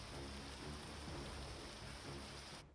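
Heavy monsoon rain pours steadily in Shimla, Himachal Pradesh, a dense unbroken hiss of water across the whole stretch with a low rumbling undertone, no voices, cutting off abruptly at the end.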